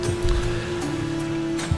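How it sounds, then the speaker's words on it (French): Ambient waves slap against a ship's hull at sea, a low, steady wash of water with a faint sustained tone and soft surges throughout. "il y a quelques vagues qui viennent frapper un peu votre navire"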